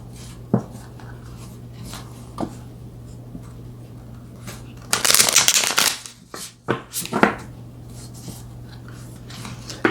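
Tarot cards shuffled by hand in a quiet room, soft scattered riffles and taps building into a dense burst of rapid shuffling midway, with a steady low hum underneath and no talking.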